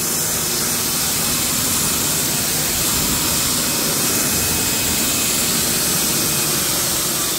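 EGO power washer with a brass foam cannon on turbo setting, a loud, steady, close rushing hiss of spray that holds constant throughout.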